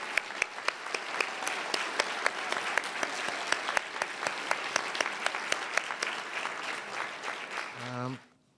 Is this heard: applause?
yes